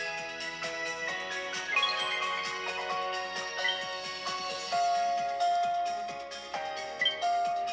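Bright, tinkling Pokemon Sleep game music plays from a phone, a continuous melodic tune with chime-like notes and a steady pulsing beat, heard alone.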